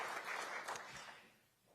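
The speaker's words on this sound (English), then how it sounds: "Let's give her a round of applause as well for leading this great institute" Brief, faint applause from an audience at a speech event, a soft wash of clapping that swells and then fades away within a couple of seconds.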